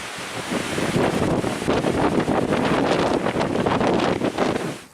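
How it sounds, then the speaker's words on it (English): Strong wind roars and buffets a microphone continuously on a mountaintop above Lake Superior, loud and close, with no other sounds. "And it is windy."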